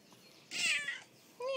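A cat gives two short meows close by, quiet and clear against near silence.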